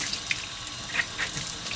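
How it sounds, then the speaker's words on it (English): Warm water runs from a kitchen tap over a fresh corn cob being rinsed, a steady close splashing hiss with small shifts as the cob is turned under the stream. "I take it and I run it up under warm water"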